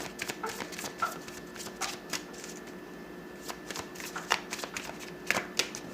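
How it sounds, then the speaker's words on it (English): Tarot cards being shuffled, a quick series of soft papery riffles and taps close by, with no talking. "Two more shuffles."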